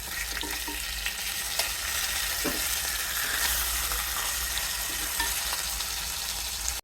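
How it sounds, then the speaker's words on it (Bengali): Fish frying in a pan of hot oil gives a steady, fairly quiet sizzle with scattered crackles and pops, heard alone without any talking. "মাছ ভাজা।"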